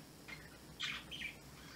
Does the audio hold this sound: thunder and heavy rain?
no